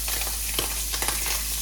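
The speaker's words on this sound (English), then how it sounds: "Now that, I can hear that sizzle." Chicken browning in bacon grease in a hot pan gives off a steady, close sizzle that crackles continuously throughout, with no talking.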